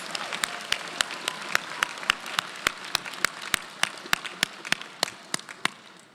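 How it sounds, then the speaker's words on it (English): Applause for faculty members at a university convocation, a broad crowd wash punctuated by sharp, regular individual claps near the microphone, sustained throughout at moderate loudness. "Let us have a round of applause for both of our faculty members."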